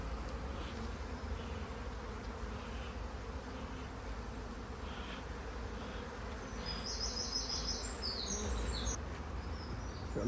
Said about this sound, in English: I'm about to light the smoker and there's a bee.